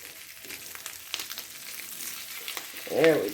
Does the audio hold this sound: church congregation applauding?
no